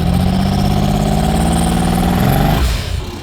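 A carbureted all-wheel-drive turbocharged V6 S10 truck launches off the line, its engine droning loud and close at steady high revs with a rising whine, then the tone drops and fades.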